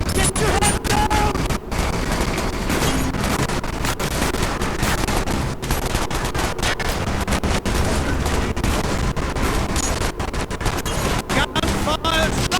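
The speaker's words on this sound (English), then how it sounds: "Gunfire!" Dense, sustained gunfire and explosive bursts from the Call of Duty: Black Ops video game, loud and continuous throughout with rapid overlapping shots, while voices shout amid the battle.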